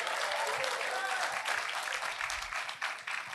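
Audience at a municipal tax inspection conference in Fortaleza breaking into sustained applause after a speech, dense even clapping that stays loud and steady throughout.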